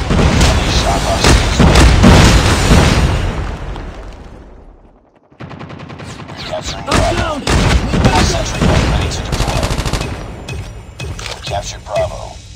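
Gunfire and explosions from a Call of Duty Mobile Domination match, dense loud bursts of shots and booms filling the first few seconds, a brief drop, then more shooting and blasts mixed with in-game announcer voices.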